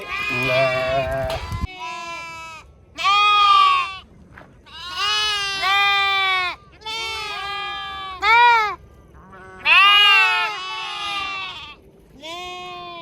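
A flock of about thirty sheep bleat repeatedly, loud and close, in a series of wavering calls with short pauses between them.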